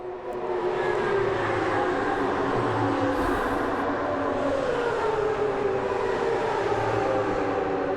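Loud motorcycles roar past on a road, a close, sustained engine drone with a gently falling pitch that fills the whole stretch without letting up; no voices.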